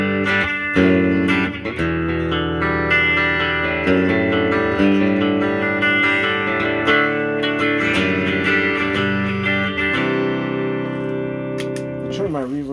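A repaired 1964 Epiphone Pacemaker electric guitar with Fender Noiseless Gen 4 pickups, played through pedals including reverb, giving a clean tone with some drive. Loud, sustained chords and notes ring steadily throughout.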